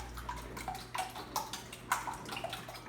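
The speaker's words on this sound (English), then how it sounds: "now I'm just going to take my whisk and I'm going to whisk that together" Vanilla whisked into a French toast egg mixture in a bowl, a quick run of soft liquid sloshing and clicking strokes with no talking.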